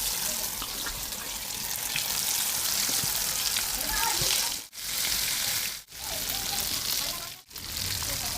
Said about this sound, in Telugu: పీస్ అనేది గట్టిగా వచ్చే వరకు ఫ్రై చేస్తూ ఉండాలి